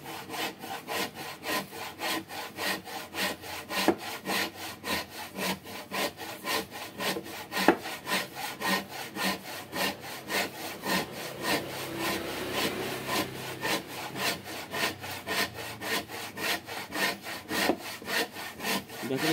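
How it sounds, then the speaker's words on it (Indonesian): Hand saw cutting a thick wooden block for an acoustic guitar neck, with steady rhythmic back-and-forth strokes, close and loud, continuing without pause and with no talking. "Nah kalau untuk yang tebel-tebel begini kita pakai gergaji ginian."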